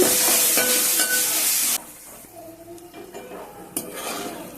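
Curry leaves and dried chillies fry in oil for lemon pulihora, giving a loud steady sizzle that suddenly drops to a quieter crackle with stirring and utensil clinks near the pan.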